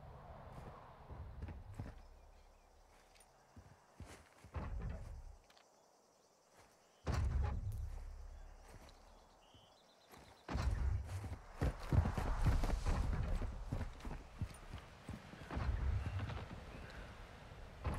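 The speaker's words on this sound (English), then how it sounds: "I'm hearing footsteps." Footsteps in a first-person shooter video game, irregular thudding steps and clattering movement scattered across a long stretch, alternating between louder close bursts and quieter gaps.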